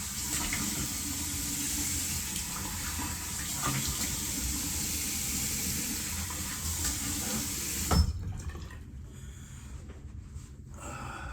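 Steady, loud rush of a running tap filling the sink as the face is rinsed after a razor shave, cutting off sharply near the end to leave quieter dripping and splashing.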